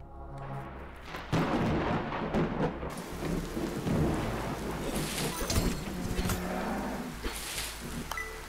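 Game storm summoned by a spell in Rogue Heroes: Ruins of Tasos: steady rain hiss and low rolling thunder rumble filling the clip, loud and close, joined by a sharp crack of thunder partway through, with no talking.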